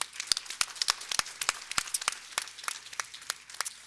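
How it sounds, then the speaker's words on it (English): A small audience at a bioeconomy conference opening session claps for a panel, producing distinct, scattered individual claps in an irregular rhythm, fairly close and moderately loud, with no talking over them. "So big applause."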